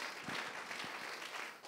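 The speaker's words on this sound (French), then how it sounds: "Oui, on peut acclamer le Seigneur." A church congregation claps together at a New Year worship service, a steady mid-level patter of many hands that runs on without pause and carries no voices over it.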